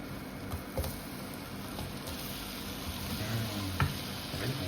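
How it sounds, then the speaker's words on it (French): Apples poured into a hot pan for an Austrian apfelstrudel fry with a steady, moderate sizzle, broken by a few soft stirring knocks. "Donc là, je vais verser les pommes."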